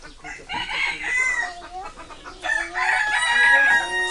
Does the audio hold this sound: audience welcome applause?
no